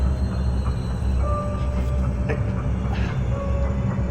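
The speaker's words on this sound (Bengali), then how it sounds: "ট্রেনটা সুরঙ্গে মিলিয়ে গেল" A train rumbles steadily into a tunnel, a continuous low roar with faint metallic squeals and clicks over it, with no one speaking.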